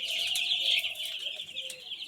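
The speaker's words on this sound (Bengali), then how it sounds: "মুরগিগুলো কী করে আছে দেখেন" Chickens in a coop cluck close by, a few short calls overlapping in a steady run with some faint wing flutters and no talking.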